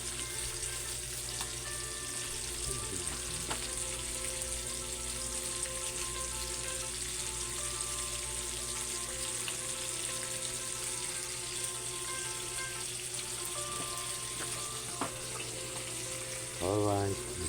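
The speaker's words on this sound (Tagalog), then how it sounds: "Ang gulay, igigisa." Vegetables for pinakbet sautéing in a pan, a continuous close sizzle with steady background hum and a few faint clinks, no voices over it.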